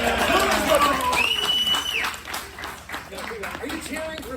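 Audience at a black belt promotion ceremony cheering and clapping, a steady crowd roar with applause and a whistle, fading somewhat toward the end as a voice speaks over it.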